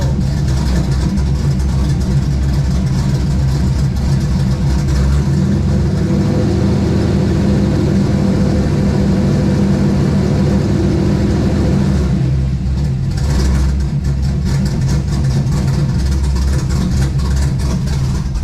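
A car engine, fitted with a McLeod RXT clutch, runs in gear on a lift with the clutch let out, giving a loud steady low rumble with a slight shift in tone partway through. No one speaks.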